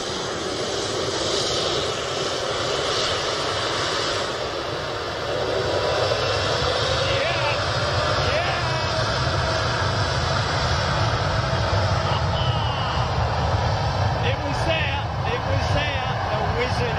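A jet aircraft takes off from a dry runway, a steady, loud broadband roar that holds for the whole stretch and swells slightly midway, with voices talking underneath.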